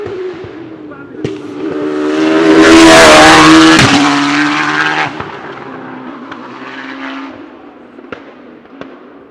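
A race car climbs the Shelsley Walsh hill climb at the season opener, swelling from a distant engine note to a loud, flat-out roar that peaks mid-clip, then fades uphill, with faint pops and crackles after it passes.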